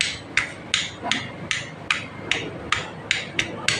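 Hammer strikes on the crankshaft of a Yamaha Mio i 125 engine, about ten sharp metallic knocks at a fairly steady rhythm, close and clear, with no talking.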